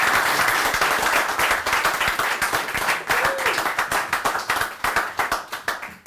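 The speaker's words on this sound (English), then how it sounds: "Give yourself a round of applause." An audience at a Puma Cell sneaker relaunch talk breaks into loud, dense applause that fades out over about six seconds as the clapping thins into scattered claps.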